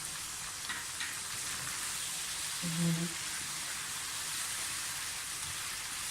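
Pieces of chicken fry with coriander powder, red chili powder, qorma masala and cumin masala for a Kashmiri chicken qorma, giving a constant, fairly quiet sizzle and crackle like light rain, with a brief low clunk partway through.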